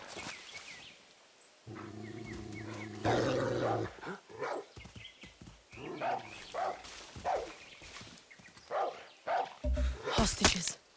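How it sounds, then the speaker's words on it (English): Boom Boom, a dog companion in the video game Far Cry 6, barks in several short bursts amid other game sounds and someone talking. "Good dog."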